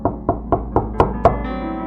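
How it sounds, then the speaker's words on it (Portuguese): Six evenly spaced knocks on a door, loud and close, with a faint sustained tone lingering after the last knock. "alguém bate na porta"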